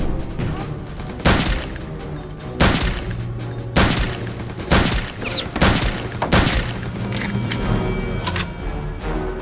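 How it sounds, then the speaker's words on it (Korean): Distant machine gun bursts in Return to Castle Wolfenstein, coming as about six sharp volleys at a steady rhythm, loud over a rumbling game background. "오, 저 위쪽에 기관총을 막 쏘고 있어요."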